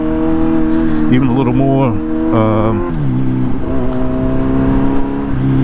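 A Kawasaki Z900 motorcycle with a flashed ECU revs inside a tunnel. Its exhaust rises and falls in several sharp, echoing blips over a loud idle, with someone speaking briefly over it.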